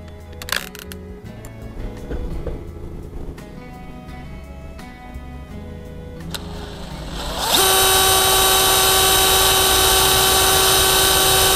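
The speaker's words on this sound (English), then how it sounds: "It says we're supposed to drill from both sides." A power drill with an 11/64 bit bores through a cargo buckle mounting point on a Dodge Ram contractor lumber rack, starting with camera clicks and handling noise before the drill spins up loud and steady for the last few seconds.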